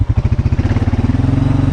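A four-wheeler ATV with a bent frame idles and putters on a farm, its engine pulsing in a fast, even, loud rhythm close by.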